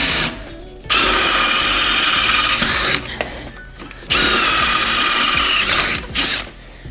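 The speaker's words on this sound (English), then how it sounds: "that's it for drilling for a second." A power drill whirs loudly in two long bursts with brief pauses between, a ratcheting mechanical rattle under the motor, close by.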